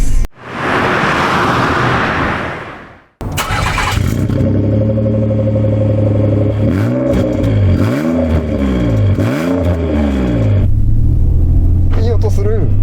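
A Nissan Leopard J.Ferie with a modified muffler fires up after a brief voice, then its engine rumbles deeply as the car drives off, revving up and down in several repeated rises before settling into a steady, loud cruise.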